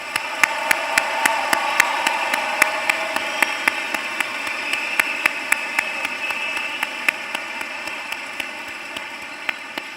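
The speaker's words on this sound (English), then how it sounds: "Let's give them a round of applause." A large graduation crowd at a high school ceremony applauds in a steady, dense wash of handclaps, with distinct sharp claps popping out evenly over ten seconds, no talk.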